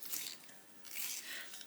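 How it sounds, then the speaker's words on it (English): A pencil sharpener grinding a colouring pencil during adult colouring, two short scraping bursts with a pause between, close and quiet. "I'm still sharpening."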